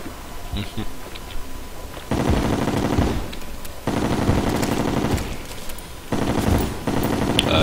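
A loud gun in the Terraria video game fires in three long rapid-fire bursts separated by short pauses, harsh and close, with a player talking quietly in the gaps.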